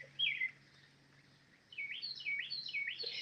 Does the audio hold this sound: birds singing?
yes